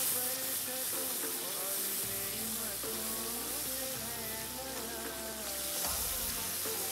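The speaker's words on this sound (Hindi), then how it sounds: "अब भून लेना है।" A spice mixture with thick tamarind water fries in a pan, giving a continuous soft sizzle and hiss under background music.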